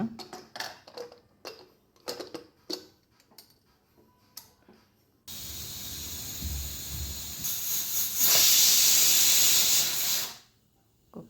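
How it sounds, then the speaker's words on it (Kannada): Scattered ticking and clicking, then a steady hiss of escaping steam from a pressure cooker of vegetable pulao that swells louder for a few seconds before cutting off abruptly. "ಕುಕ್ಕರ್ ಎರಡು ವಿಷಲ್ ಬಂದಮೇಲೆ ಆಫ್ ಮಾಡ್ತಾ ಇದ್ದೀನಿ"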